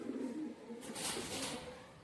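A female pigeon of a bred fancy variety gives a soft, low cooing call close by, a couple of rounded coos over faint background hiss with no talk.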